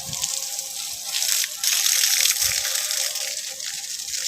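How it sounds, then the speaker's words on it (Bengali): Water gushing steadily from a hose pipe onto winter flower plants in a garden, a loud continuous hiss with small shifts in flow, no talking. "এখন ফুলের গাছেতে জল দিচ্ছি তো জলটা দিয়ে দিই সব দিকে"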